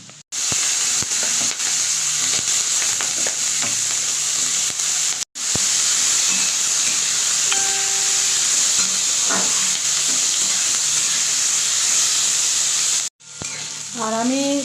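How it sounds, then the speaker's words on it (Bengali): Steamed mixed vegetables fry in a hot pan with a loud, steady sizzle and hiss that fills the whole stretch, broken only by two brief pauses. "আর আমি সবজিগুলোকে এইভাবে ফ্রাই করে নিচ্ছি"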